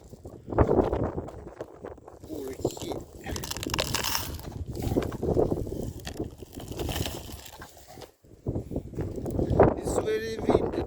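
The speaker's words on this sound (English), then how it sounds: "It's very windy today," Strong wind on a sunny day where birds are being fed outdoors, gusting and buffeting the microphone loudly throughout while a person talks over it.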